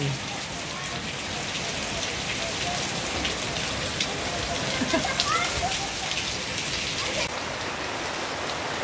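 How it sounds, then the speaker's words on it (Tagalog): Steady heavy rain pours down, a dense continuous hiss of drops drumming on surfaces, with faint voices beneath the downpour. "Talagang bumuhos na yung ulan. Lakas ng ulan oh."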